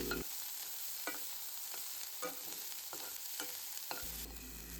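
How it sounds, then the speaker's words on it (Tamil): Onions, curry leaves and green chillies fry with a constant hiss in a pan, while a spoon scrapes and stirs through them in regular strokes about every half second, close up and quiet with no talking. "கருவேப்பிலை, பச்சை மிளகாய் எல்லாம் சேர்த்து நல்லா கிளறி விட்டுக்கலாம்."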